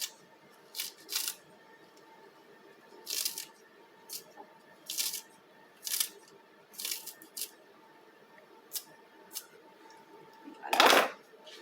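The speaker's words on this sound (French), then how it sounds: "ça va beaucoup plus vite avec des ciseaux" Scissors snip through food during cooking prep, a series of separate crisp cuts spaced irregularly, close and fairly quiet, with a louder rustle near the end.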